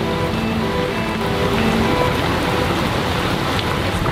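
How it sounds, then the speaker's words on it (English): Heavy rain from a squall pours onto a sailboat at sea on the Indian Ocean, a dense, even hiss of drops drumming on the deck and cockpit that fills the whole stretch without pause. "Quite a wet and rainy day today"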